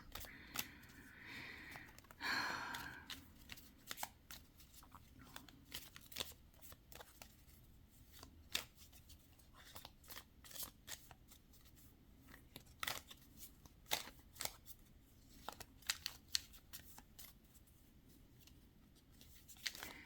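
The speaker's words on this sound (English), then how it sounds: "I'm pulling up multiple cards here." Tarot cards shuffled and drawn by hand, a long run of quiet, irregular flicks and riffles with soft snaps, close up and with no talking over it.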